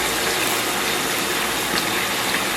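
Soy sauce splashed into a hot wok where fatty pork is stir-frying with scallion and ginger, giving a steady, loud sizzle and hiss that runs throughout without a break.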